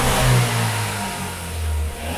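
A Volkswagen Scirocco project car revs with its hood open, its engine rising, easing back, then climbing again in a loud, close, rumbling burst lasting about two seconds.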